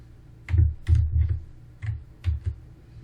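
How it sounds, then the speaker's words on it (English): Several keystrokes on a computer keyboard entering an SSH command for an AWS Lightsail instance, arriving in two short bursts of clacks with a pause between, close and moderately loud with no talking. "Type the following command."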